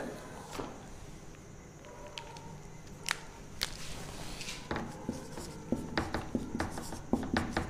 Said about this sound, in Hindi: मैं लिख रहा हूं यहां पे